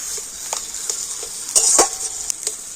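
Spiced potatoes stirred and fried in a pan over low heat, with a steady close sizzle and a few soft scraping stirs.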